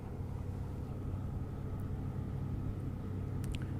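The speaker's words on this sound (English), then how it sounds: "I think a truck might be coming." Truck passing by a construction site, a continuous low rumble that stays loud and even throughout, with a few faint higher clicks near the end.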